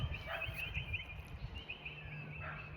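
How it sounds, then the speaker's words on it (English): Birds call and chirp repeatedly outdoors under trees, their bright, fluttering notes rising over a steady low rumble of background noise, with dogs and tennis in the background. "Noisy birds, lots of dogs, some tennis in the background."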